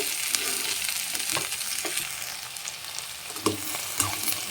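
Bitter gourd frying in a spoonful of oil, a soft steady sizzle with occasional scraping knocks of a spatula stirring the pieces.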